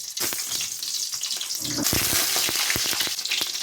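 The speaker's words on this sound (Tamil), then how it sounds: "இந்த 2 ஆப்பிள் தக்காளியை முழுசாக இந்த எண்ணெயில் வதக்கிக்கலாங்க, தோல் உரியினதுக்காக" Two whole apple tomatoes fry in hot oil, crackling with a loud close hiss and quick sputtering pops that thicken toward the end.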